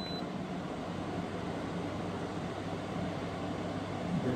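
A window air conditioner runs on medium fan speed, giving a steady, even broadband whoosh with a low hum and no change over several seconds, close and alone.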